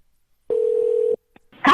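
A telephone call rings back through an earpiece: one steady, even ringback tone lasts under a second and then stops, followed by a faint click and the start of a voice.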